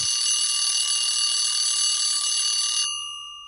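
A loud, continuous electric alarm bell rings steadily for almost three seconds, marking the end of an interview episode, then cuts off abruptly and leaves a brief fading ring.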